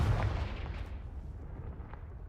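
Confringo, an explosive spell in the video game Hogwarts Legacy, goes off as a single booming blast with a low thump that decays into a rumbling tail.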